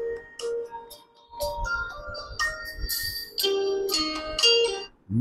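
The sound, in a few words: Tecno Spark Go 1 phone dual speaker playing ringtone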